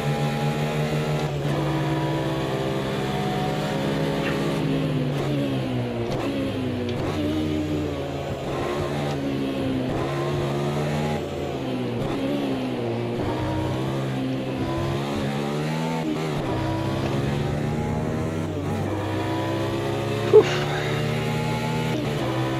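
Race car engine in Automobilista 2, revving up and down through repeated gear shifts with rising and falling harmonic sweeps, steady and close throughout, plus one sharp brief click near the end.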